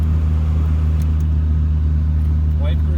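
A 1982 Fiat X1/9 sits with its engine running, a loud, steady low idle rumble, while someone talks over it.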